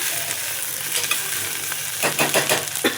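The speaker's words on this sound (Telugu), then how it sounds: "వీటిని కొంచెం ఇట్లా వేగనిద్దాము" Ingredients for a taro root curry frying in a pan, a close, loud steady sizzle with quick bursts of spoon stirring and scraping toward the end, no talking.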